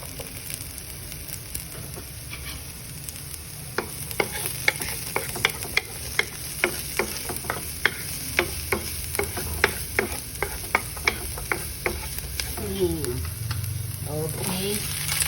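Onion and chilies frying for pork sisig, a constant close sizzle with a run of regular sharp taps from a utensil against the pan in the middle and brief voice sounds near the end.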